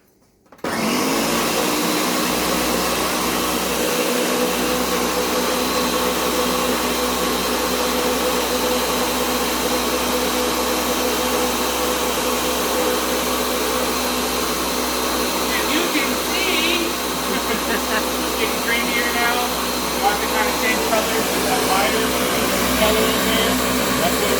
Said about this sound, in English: So all you're going to do is we're blending this until it's creamy.